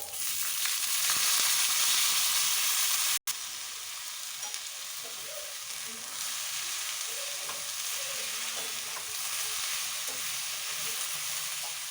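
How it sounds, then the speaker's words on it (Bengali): Cauliflower fries in a little oil in a pan, producing a steady, loud sizzle with occasional stirring scrapes, briefly cut off once, then continuing evenly without any voices. "ফুলকপিটা ভেজে নেব।"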